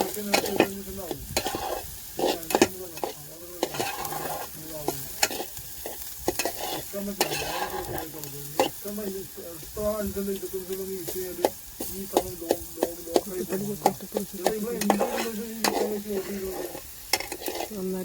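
Dried fish and green chillies stir-fried together in a pan: a steady sizzle runs under frequent scraping, clattering stirs at an uneven rhythm, close and fairly loud, with a brief spoken word.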